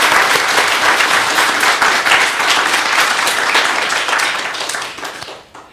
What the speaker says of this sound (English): let's give a round of applause for panelists